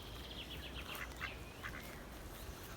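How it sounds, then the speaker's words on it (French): Faint, distant quacking from ducks at a lake, a few short nasal calls in a loose series over steady outdoor background noise. "Écoute, le canard, il fait coin, coin, coin,"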